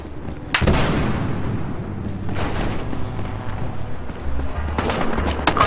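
A grenade blows up in a Battlefield Hardline multiplayer match with a sharp, loud blast and a rumbling tail, followed by further bangs and gunfire in the mix.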